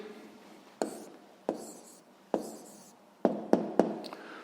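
A pen writes down a maths answer in a few sharp taps and short scratching strokes, spaced irregularly and heard close and clear in a quiet room.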